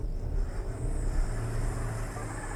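A 2020 Subaru Outback in X-Mode with vehicle dynamics control off, spinning its wheels while climbing off-road in snow: a steady, close engine drone with a deep low rumble, no voices.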